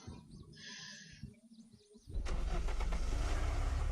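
A car in the video game Unturned starts up and drives off with a loud, steady engine drone that fills the second half, after quieter bird-like ambient calls.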